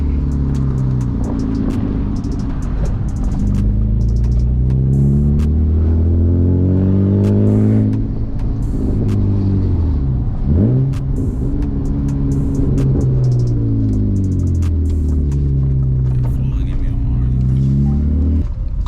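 Loud engine of a manual BMW E36 driven through hills, revving up and down through gear changes with strong low rumble and rising, falling harmonics throughout; faint voice now and then.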